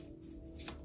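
Tarot cards shuffled and drawn by hand, a quick soft riffle and flick of card stock over a steady low hum, brief and close.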